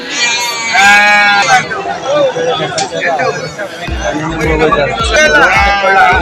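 Sheep bleat loudly in repeated wavering calls at the Kanakapura sheep and goat bazaar, nearby and frequent, over a busy babble of traders talking.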